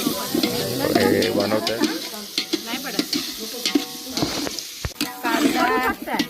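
Mustard seeds and salt sizzling in hot oil for a large batch of Konkan jackfruit gravy, loud close crackling and stirring while someone talks over it.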